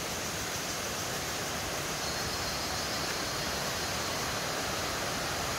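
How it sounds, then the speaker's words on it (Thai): A forest waterfall off to one side roars as a constant, even rush of falling water, steady and unbroken with no voices. "ได้ยินเสียงน้ำตกนะครับ น้ำตกอยู่ทางด้านด้านขวามือ"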